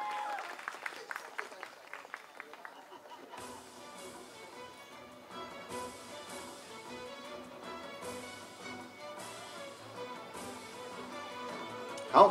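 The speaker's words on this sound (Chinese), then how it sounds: "再次给台上获得个人奖项的我们的音乐人们一个热烈的掌" An audience gives sustained applause to award-winning musicians at a prize ceremony; the clapping swells in after a brief voice at the start and continues at moderate loudness.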